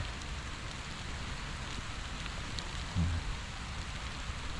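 Heavy rain pours down in a steady, dense hiss with no pauses; a single dull thump sounds briefly partway through.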